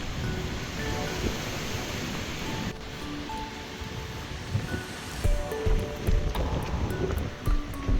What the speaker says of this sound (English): Overcast, but a very strong wind, 70-80 kilometers.